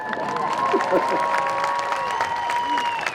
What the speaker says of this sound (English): Now, I want applause